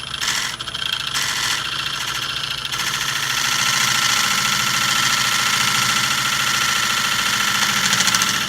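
A wood lathe spins an oak burl blank at close to 1000 RPM, giving a loud, steady mechanical whir and hum that holds throughout. The turning roughness varies a little in the first few seconds.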